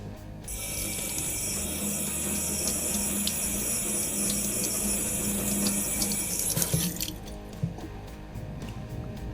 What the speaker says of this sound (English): First, we want to rinse the brush.